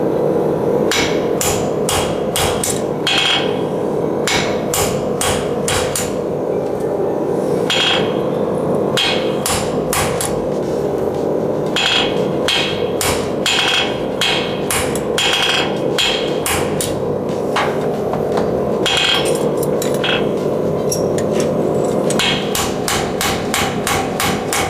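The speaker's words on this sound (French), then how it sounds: "Tu vois comment j'arrive à utiliser l'enclume pour donner la forme que je veux?" A horseshoe is hammered on an anvil in a series of loud, close, ringing metallic strikes, fired in quick bursts with short pauses between groups, with no voices.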